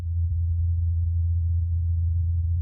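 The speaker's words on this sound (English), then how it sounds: "This is the sound of a helicopter flying on Mars." A faint, steady low hum drones without change, a muffled buzzing tone of helicopter rotor blades recorded on Mars, with no other sounds.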